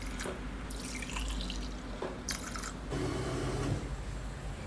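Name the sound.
water being poured into biryani pot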